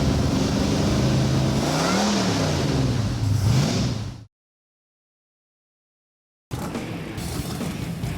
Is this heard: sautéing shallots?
no